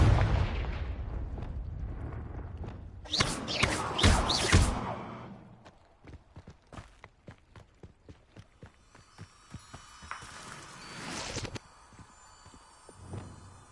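Confringo spell explosions in Hogwarts Legacy: a heavy burst of booms and impacts early on, then a long, even series of sharp thumping hits with quieter gaps, ending in another brief louder flare.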